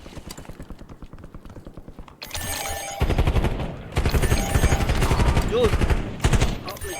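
In a shooting video game, rapid bursts of gunfire fire at a sniper, a loud clattering stream of shots that starts after a stretch of quieter play and keeps going, with a player's voice briefly heard.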